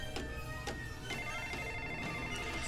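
In the video game Lego Jurassic World, a telephone rings with repeated tonal chirps at a regular pulse over a low, steady background hum.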